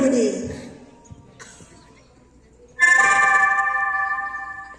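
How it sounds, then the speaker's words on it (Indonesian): A school bell signals the break: a sustained, loud electronic ringing tone starts abruptly after a voice speaks, with softer clattering sounds in between. "Singkat cerita, bel istirahat pun berbunyi."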